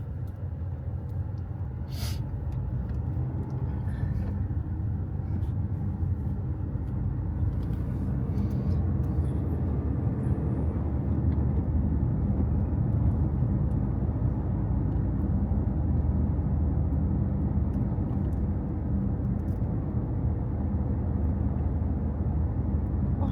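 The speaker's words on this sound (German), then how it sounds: "Wir machen noch eine kleine Tour mit dem Auto durch Chimien." Car driving along a road in Sichuan, China, a steady, low interior road rumble that continues throughout with no break.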